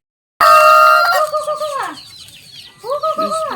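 Chickens on a farm call loudly at close range, a sudden burst of drawn-out crowing and clucking followed by a second shorter call after a brief lull.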